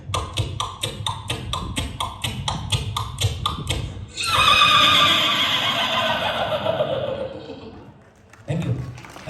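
A stand-up comedian at a Mumbai comedy show vocally imitates a horse, first with a steady run of clip-clop hoofbeats, then a long loud whinny, before the crowd laughs and talks.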